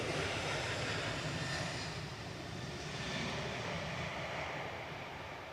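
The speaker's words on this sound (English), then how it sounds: "just to witness these aircraft, it's just absolutely amazing" Aircraft engines roaring close by at Manchester Airport's Southside on a stormy day, a broad steady rumble that eases slightly partway through, moderately loud with no talk.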